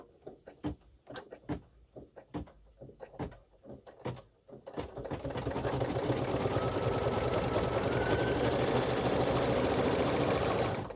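An embroidery machine stitches a quilt block, starting with a few sparse taps and clicks, then settling into a continuous rapid, buzzing stitching rhythm that carries on steadily to the end.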